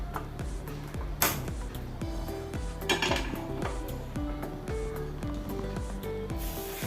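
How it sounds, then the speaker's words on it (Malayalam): A metal griddle (tava) for rava dosa clanks onto a gas stove, with a couple of distinct metallic knocks and clinks over a faint tonal background. "ഇനി ഗ്യാസ് ഓൺ ചെയ്ത് തവ വെച്ച് കൊടുക്കാം"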